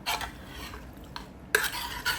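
Mutton being mixed with garam masala and salt for Thalassery dum biryani, a spoon scraping and stirring against a metal pot in steady close strokes, with a couple of louder clinks and no talk.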